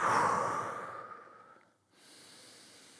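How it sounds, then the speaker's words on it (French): Deep breathing during a neck mobility exercise: a long, fairly loud exhale fades away, and after a short silence a soft steady inhale follows, close to the listener. "Inspirez quand vous montez et soufflez quand vous descendez."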